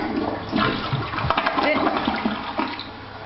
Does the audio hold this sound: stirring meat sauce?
no